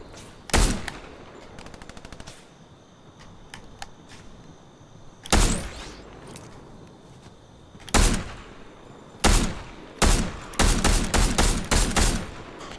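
Fortnite weapon gunfire: loud, close bursts of rapid shots separated by quiet gaps, with a dense cluster of repeated shots near the end.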